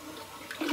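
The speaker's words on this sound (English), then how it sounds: "I might hit pause and just do a very quick flush like this." A very quick, minimal flush of an AquaSource toilet fitted with a Fluidmaster 400AH fill valve: a short rush of water that swells sharply near the end, close and alone.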